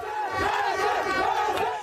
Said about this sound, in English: and the euphoria of the crowd when a goal is scored.